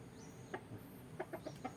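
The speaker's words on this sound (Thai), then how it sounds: "นี่เป็นลูกไก่นะ" Young chicks of fighting-cock stock, still in downy chick feathers, give faint high peeps: a single chirp, then a quick run of four or five close together, soft and nearby.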